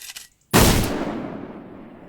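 A single sharp gunshot from an anime about gunslinger girls, a loud close crack after a faint lead-in, then a long ringing decay that fades over about a second and a half, no talk.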